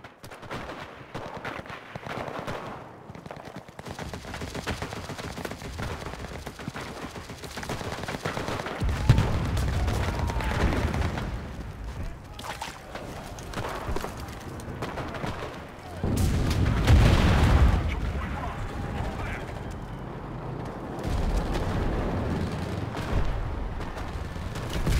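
Artillery support fire in the World War II shooter Enlisted during the Battle of Normandy, a long rumbling barrage of booming impacts and scattered gunfire, with a heavier surge of blasts partway through and faint voices at times.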